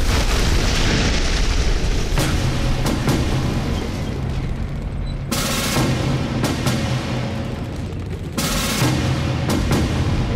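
Explosions rip through a battle scene of an anti-Japanese war film involving a tank: heavy, continuous blasts with sharp bursts and rumbling, very loud and dense throughout.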